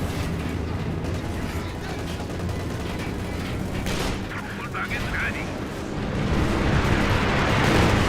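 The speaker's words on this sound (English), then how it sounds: "I think they're going to strafe this Kupelwagen." Gunfire and explosive bursts from a P-47 strafing run on a Kubelwagen in Company of Heroes 2, a dense continuous barrage swelling louder toward the end.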